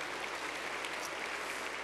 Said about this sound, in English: So please give Northeastern another round of applause.